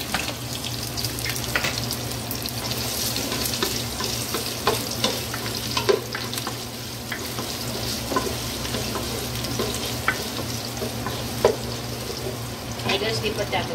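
Garlic, onion and ginger sauté over a hot fire, giving a steady close sizzle with scattered clinks and scrapes of stirring throughout.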